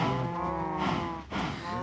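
A Minecraft video game cow gives a long, low moo, a second lowing call following right after, clear and close with no other sounds.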